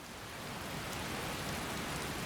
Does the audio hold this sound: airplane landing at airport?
no